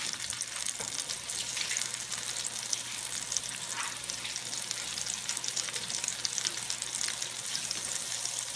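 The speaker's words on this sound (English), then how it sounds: "Let me rinse this off." Cabbage leaves rinsed under a running kitchen faucet, a continuous bright splashing rush of water with small fluctuations as the leaves move through the stream.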